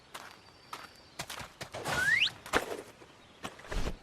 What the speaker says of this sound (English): The monk got down from the horse.